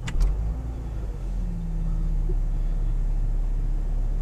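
A Saab car engine starting, a brief low crank at the start that settles into a steady, close low rumble of idling that holds to the end.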